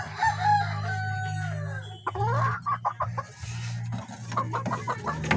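Roundhead gamefowl rooster at a game farm crowing loudly and close by, followed by a series of short clucks and calls from the same bird; no talk.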